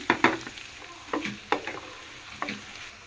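Onions, carrots, tomatoes, cabbage and capsicum frying with egg in a pan, soft continuous sizzle broken by a handful of sharp scraping stirs of a spatula, close and fairly quiet with no talk.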